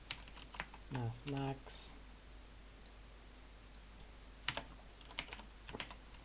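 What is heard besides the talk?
typing on a computer keyboard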